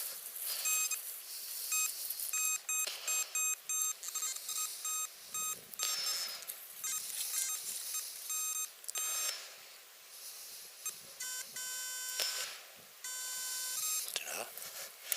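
C.Scope 6MX metal detector sounding repeated high-pitched beeping tones in short bursts and longer sustained runs while sweeping outdoors, fairly faint, with brief low voices in between.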